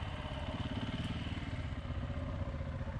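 Steady, droning engine roar of KTM 690, Husqvarna 701 and Honda Africa Twin motorcycles riding along dirt trails, continuous and fairly close with no pauses.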